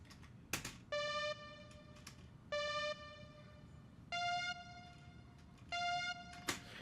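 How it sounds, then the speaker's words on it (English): Four short, bright pitched synth tones from the Lethal synth's uplifter effect sound at a steady pace, each a rich buzzy note, quiet overall, with faint clicks in the background. "that's a pitched uplifter"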